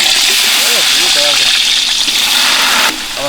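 Onions go into hot oil and sizzle loudly in a continuous hiss and crackle close by, while a voice speaks briefly over it near the start.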